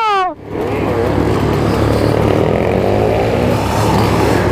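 A two-stroke moped engine revs loud and steady throughout, after a brief rising whine at the start.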